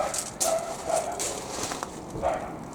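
A dog barks a few times at a distance, short sharp yaps spread across a few seconds over a steady background hum.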